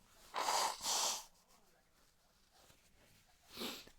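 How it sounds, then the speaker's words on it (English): Someone with a cold blowing their nose, two close, forceful honking blasts in quick succession, then a quieter stretch and a third shorter blow. "You're going to hear me blow my nose."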